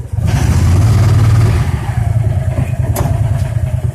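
A 2014 Landmaster LM650 UTV engine revs loudly and close by, rising to a rough, clattering roar before settling into a steady, throbbing run.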